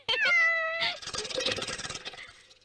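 A cat gives one loud, drawn-out meow close by, followed by a rapid series of softer, purring or chattering pulses that fade away.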